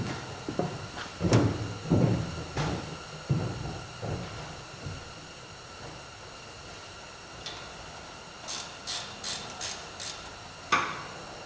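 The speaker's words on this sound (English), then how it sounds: "Let me see if I can get that oil pump out of there." Metal parts clank, rattle and scrape as an oil pump is worked free from the crankcase of a Big Cat generator set engine, with scattered knocks early on and a quick run of sharp clicks near the end.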